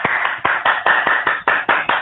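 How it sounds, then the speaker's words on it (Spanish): Hands clapping in a steady rhythm, about ten sharp claps in two seconds, close and fairly loud, with no voices. "Otra vez lo aplaudo"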